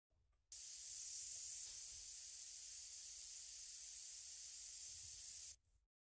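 Synthesized snake hiss texture, a steady, bright, very pitchy white-noise hiss that starts abruptly, holds evenly for about five seconds and cuts off cleanly, with no talking over it.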